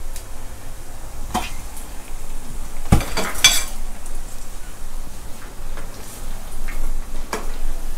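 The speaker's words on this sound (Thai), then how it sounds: "เดี๋ยวเบสทอดให้ดูตัวอย่างนะครับ" Battered meatballs deep-fry in oil with a steady sizzling hiss, broken by scattered sharp crackles and clicks, some near and loud, over about eight seconds without talk.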